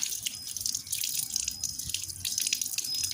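An ingredient for a homemade hair oil is washed under a running tap, with steady splashing water and drips close by and no talk.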